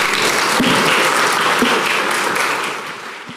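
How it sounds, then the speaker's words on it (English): Loud, close audience applause greets a speaker at a community summit, a dense, continuous clatter of many hands that stays strong, then eases off in the last second. "a big round of applause"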